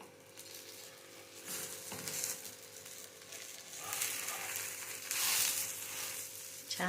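Beetroot roasts in a pan over a low gas flame, giving a soft, low sizzle that swells at moments as it is stirred, over a faint steady hum.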